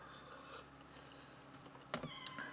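A cat meows once or twice, short and fairly faint, near the end of a quiet indoor moment with no talking.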